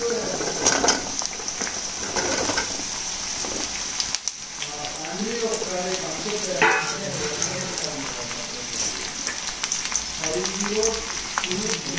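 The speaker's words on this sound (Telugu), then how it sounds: "ఇప్పుడు కట్ చేసి పెట్టుకున్న మునక్కాయ ముక్కలు నేద్దాము." Drumstick pieces frying in a pan for a South Indian masala curry, heard as a rain-like crackling sizzle under a voice, with occasional stirring clatter.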